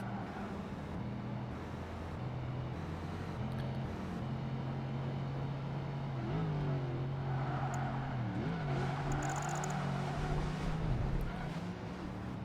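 Steady droning engine of a race car in Project Gotham Racing 2, a sports coupe holding a flat, unchanging tone with only slight pitch wobbles, continuous and moderately loud with no talk over it.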